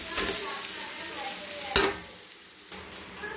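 Egg fried rice sizzles in a pan while being stirred, a close, continuous frying hiss broken by a sharp scrape or clack of the utensil partway through.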